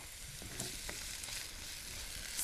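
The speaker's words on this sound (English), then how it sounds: "You can hear the sizzling, so it's starting to sweat." Garlic sizzles and hisses in hot oil in a pan as it is stirred to coat. The frying crackle is steady and close, with a few soft stirring knocks and no talking.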